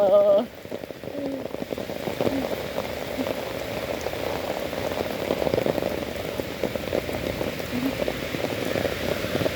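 Steady rain pattering densely on a surface beside Anyangcheon stream in Korea, a continuous close hiss of drops with no one speaking.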